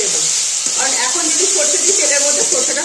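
Ground spices fry in hot oil for a fish curry with potato and eggplant, giving a loud, steady, close sizzle throughout while someone talks over it.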